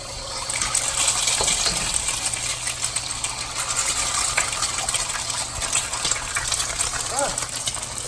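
Two plain eggs hit a smoking-hot wok for Chinese takeout-style fried rice, giving a steady broadband hiss and sizzle that holds for the whole stretch, with some faint clinks mixed in.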